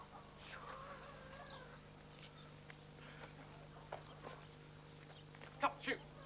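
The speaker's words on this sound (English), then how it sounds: "Go clear the chooks out of Ma's garden" Chickens on a farm cluck softly through the background with a faint crow-like call. A steady low hum runs underneath while people speak, and a couple of sharper clucks come near the end.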